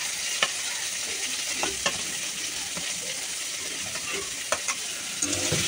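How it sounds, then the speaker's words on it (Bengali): Onion, green chili and tomato fry in mustard oil in a wok with a constant close sizzle. Occasional clicks and scrapes come from a utensil stirring the pan. "কড়াইতে দিয়ে দিয়েছি সর্ষের তেল, এবার দিয়ে দেবো পেঁয়াজটা। পেঁয়াজ আর কাঁচা লঙ্কাটা দিয়ে দিয়েছি"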